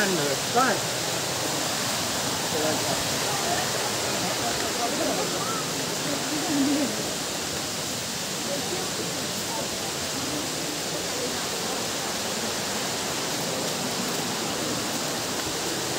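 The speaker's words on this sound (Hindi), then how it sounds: "जो पानी की आवाज़ आ रही है तो आपको बिल्कुल दिखाएंगे तो देखो ये रहा झरना" Constant broadband rush of falling water from a waterfall in Meghalaya, India, nearby, roaring evenly throughout with no breaks.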